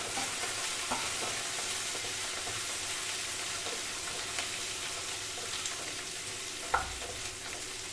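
Onion, garlic and dried chillies sautéing in a pan over low heat for a ridge gourd peel chutney, a steady close sizzle with occasional stirring clicks and one sharper knock near the end.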